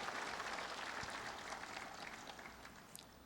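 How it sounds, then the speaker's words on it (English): Crowd applause at a Memorial Day ceremony in Korea, steady faint broadband clapping from a distant gathered audience, continuous and gradually tapering. "Please give your deepest comfort through applause."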